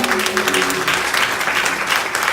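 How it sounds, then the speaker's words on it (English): Applause from a church congregation during an honoring ceremony, steady and dense throughout, with a brief voice and faint tones at the start under the clapping. "Let's give a round of applause for that one."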